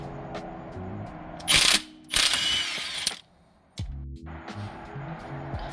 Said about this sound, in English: So I gotta take an impact gun to that.